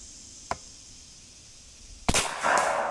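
A Seneca Dragon Claw .50 caliber PCP airgun fires one sharp, close shot that cracks loudly and leaves a hissing tail. A faint tick comes earlier, over a steady background hiss.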